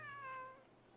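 A cat character meowing in the video game Genshin Impact, a single short, fairly quiet meow that fades out within a second.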